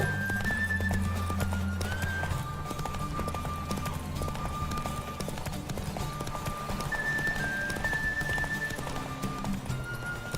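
Galloping horse hooves in The Witcher 3 video game, a steady clip-clop rhythm running continuously under game music and ambience, with brief high tones drifting through.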